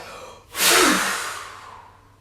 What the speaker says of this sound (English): Breath of fire. Let it all go, okay?